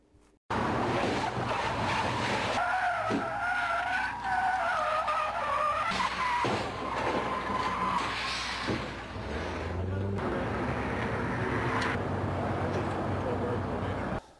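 A car's tires skid and squeal across pavement in a loud, sustained traffic sound effect, with engine roar underneath and a second screech near the end.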